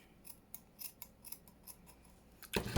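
Scissors snip through paper during an envelope craft, a series of quiet, irregular close cuts, then a louder rustle of handled paper at the end.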